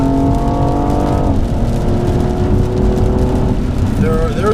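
BMW M235i xDrive on a wet track, its engine droning loud and close as it accelerates, dropping pitch at an upshift and climbing again, while someone talks over it from inside the car.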